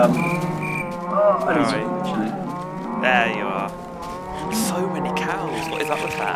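Cows moo repeatedly in Minecraft with the Tekkit modpack, overlapping calls that come from several animals at once and rise and fall in a steady stream, with faint voices underneath.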